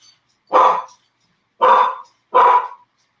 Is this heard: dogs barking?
yes